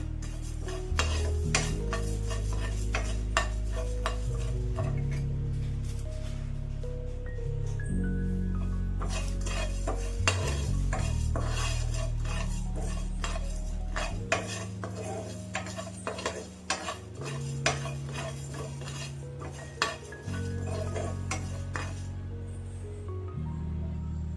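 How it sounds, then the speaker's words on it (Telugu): Cumin and fenugreek seeds dry-roasting in a pan, stirred steadily with repeated scraping and clinking of a utensil against the metal, close and fairly loud throughout. "1 టీ స్పూన్ జీలకర్ర, 1/4 టీ స్పూన్ మెంతులు, ఇవి కాస్త వేయించుకున్నాము."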